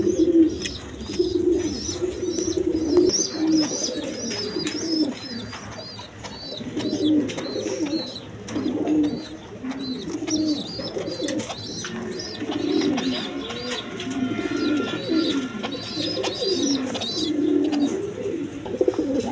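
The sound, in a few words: pigeons cooing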